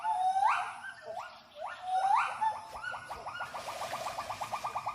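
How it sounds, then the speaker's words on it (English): Gibbon territorial calls ring out in a rainforest canopy, a series of loud rising whoops that build into a rapid, rhythmic run of shorter hoots, clear and fairly close with no talking. "the gibbon family defend its boundaries, warding off fellow gibbons with vigorous visual and vocal displays"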